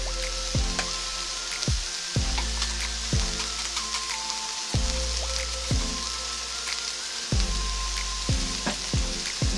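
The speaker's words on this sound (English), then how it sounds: "I'm going to go ahead and put my weight on there, try to get an even cook" Pork chop, onions and mushrooms frying under a press weight, giving a steady close sizzle broken by a run of repeated low knocks and thumps at irregular intervals.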